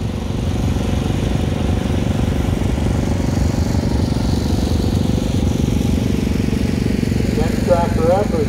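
John Deere 50 tractor driving in a farm club tractor parade, its engine a steady, loud, close chugging drone that runs throughout, with a brief higher mechanical whine near the end.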